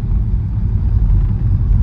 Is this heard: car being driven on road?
yes